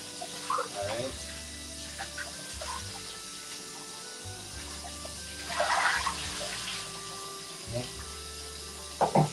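A kitchen tap runs water over raw chicken being washed, steady flow with splashing surges as the meat is rinsed, under occasional talk.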